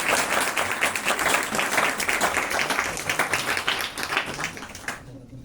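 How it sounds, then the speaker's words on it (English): Sustained, dense clapping rises from an audience at an intellectual property rights workshop, steady and fairly loud for several seconds before cutting off abruptly near the end. "Please give him a big round of applause."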